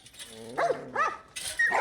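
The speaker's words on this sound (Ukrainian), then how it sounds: "Ну, собачечки мої, маленькі, козі мої." Dogs whimpering and whining in The Last of Us Part I video game, a few high wavering cries in short bursts, close and clear against quiet game ambience.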